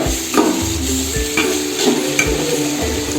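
Tomatoes frying in a pan for home-style biryani, a steady close sizzle with spoon scrapes and stirring knocks recurring every second or so, no voices.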